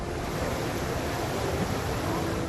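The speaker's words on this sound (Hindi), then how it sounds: "अलकनंदा उफान पर है और लहरों का शोर खौफ पैदा कर रहा है" A flooded Alaknanda river in monsoon spate roars with crashing waves, a dense, continuous, loud rush of turbulent water filling the whole clip without any speech.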